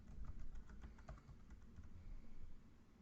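A short run of computer keyboard keystrokes enters a password, quick faint clicks in an uneven rhythm over a low room hum.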